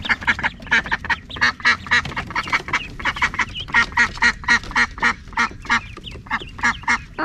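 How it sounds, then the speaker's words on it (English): Baby ducks quack in rapid, high-pitched bursts while swimming, a loud, close chorus of repeated calls with short pauses between clusters. "The baby ducks were just swimming in there in just a minute."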